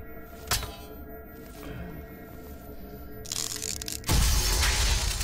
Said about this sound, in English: I love that glass cracking sound